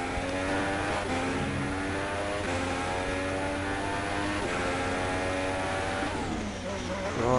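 A Ferrari race car in a sim racing Chinese Grand Prix on a flying lap, its engine droning steadily at high revs with shifting harmonic tones throughout, continuous and fairly loud, with a brief dip in pitch near the end as it brakes.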